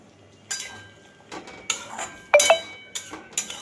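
Food being stirred in a cooking pot and covered with its lid, heard as a run of close metallic scrapes and clinks, ending in a couple of sharper ringing clanks of metal against metal.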